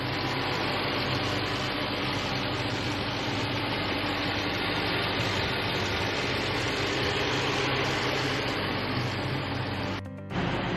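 A 2021 Jeep Grand Cherokee SRT-8 engine runs at a steady idle, a loud, constant low rumble with broadband hiss that holds for about ten seconds before a brief dip near the end.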